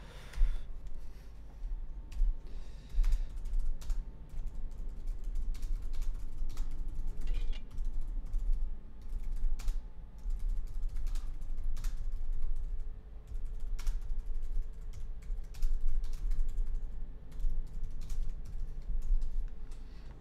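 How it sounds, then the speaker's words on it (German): Continuous clatter of typing on a computer keyboard, with rapid irregular key taps running steadily throughout over a low background hum. "So, habe ich mal getippt."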